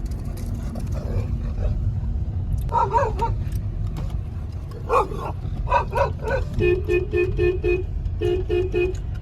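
A dog barks repeatedly at a distance, in short bursts and quick runs, over a constant low rumble of traffic.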